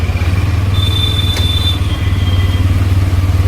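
A new Bajaj N125 motorcycle idles and runs steadily up close before a trial ride, its low engine throb continuous and loud with a faint whine layered above.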